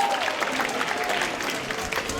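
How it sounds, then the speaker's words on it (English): A room of people applauds during a school abacus event, moderately loud steady clapping with a faint murmur of voices underneath. "Let's clap for red, everyone."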